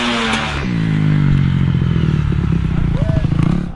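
A two-stroke bike engine revs during a practice run-up, a loud close buzzing roar that climbs in pitch and then holds with a crackling rasp, with voices mixed in over it.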